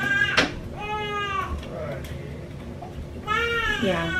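A colicky baby cries in several wavering, high-pitched wails with a pause between, heard indoors alongside a brief spoken word.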